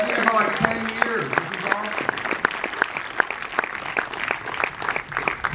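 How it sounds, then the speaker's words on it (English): A live audience at a horror film question-and-answer event in Los Angeles applauds for a guest. The clapping is loud, dense and steady for the whole stretch, with a voice briefly audible over it at the start. "Everybody give Tamara a round of applause."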